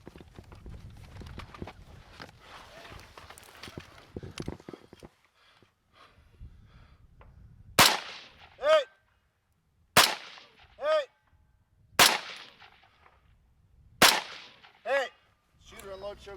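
Rifle shots at targets about 300 yards away in a High Desert Brutality 2023 stage. After earlier shuffling movement, several loud, sharp reports ring out, each followed by a distant metallic ring from the struck steel.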